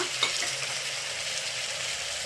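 Vegetables, including field beans, beans, carrot, tomato and peanuts, fry in a pan with a steady, dense sizzle and a brief stirring clatter near the start, with no voices.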